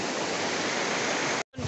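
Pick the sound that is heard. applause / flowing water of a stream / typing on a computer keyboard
flowing water of a stream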